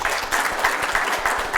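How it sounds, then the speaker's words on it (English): A round of applause breaks out at a press conference launching the World American Football League, a dense, steady clatter of many hands clapping with no break across the short stretch. "I want you to give us a round of applause for that."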